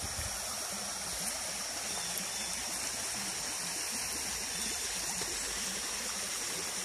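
A creek runs steadily outdoors, a constant broadband rush and babble of flowing water, moderately loud and unbroken, with no voices.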